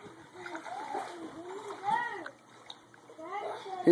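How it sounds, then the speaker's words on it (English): Water splashes as a child paddles with her hands during a swimming lesson, choppy and close, mixed under an adult's and a voices talking. "Brooke, when you paddle with your hands, keep your fingers together because they make a way better paddle like that."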